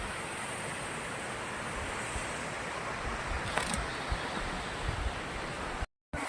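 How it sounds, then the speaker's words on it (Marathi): A waterfall on the trail up Harishchandragad fort pours with a steady, dense rushing roar that fills the whole stretch without pause and holds close and loud. "चालताना असा सुंदर असा हा धबधबा या ठिकाणी वाहतोय."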